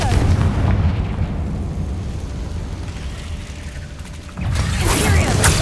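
Hogwarts Legacy game audio of the Confringo spell: a heavy explosive boom with a rumbling tail, followed by a second burst near the end.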